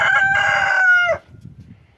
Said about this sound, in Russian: петушок кричит.